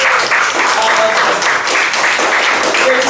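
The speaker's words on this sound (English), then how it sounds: "Round of applause, guys, please." An audience at a brand collaboration launch event breaks into loud, close, dense applause that continues steadily throughout, with many hands clapping at once and no voices standing out.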